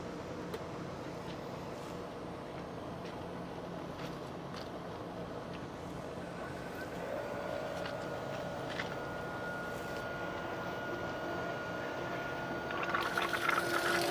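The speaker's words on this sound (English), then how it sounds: "we're going to cut this pump back on so the water can fill up and prime the pump" A pool pump restarts as water fills in to prime it, giving a steady, even rushing hum with a faint trickle. A tone rises partway through, and the noise swells slightly near the end.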